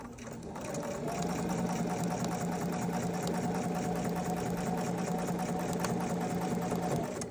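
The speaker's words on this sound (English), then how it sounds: "So I'm just going to do it really slowly." A Bernina 740 sewing machine runs slowly and steadily while edgestitching along the fold of a skirt using a guide foot. Its close, continuous motor hum carries a fine rhythmic needle clatter that starts about a second in and holds until near the end.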